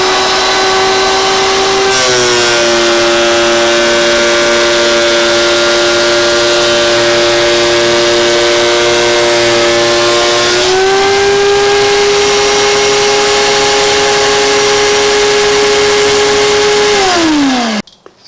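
A woodworking planer takes 1/16 inch off a board. The motor whines as it spins up, its pitch shifts as the cut changes midway, and it winds down at the end, with no talking.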